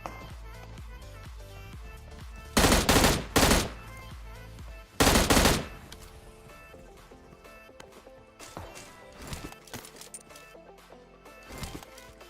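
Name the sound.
gunfire in a video game (PUBG)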